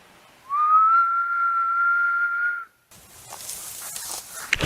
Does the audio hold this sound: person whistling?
yes